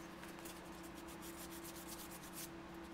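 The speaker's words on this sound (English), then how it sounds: "That's the joy of using a power sander and having dust all over the place." A power sander works over a bass guitar body, producing a continuous rubbing, scratching hiss with a steady low motor hum and rhythmic passes, quiet and without voices.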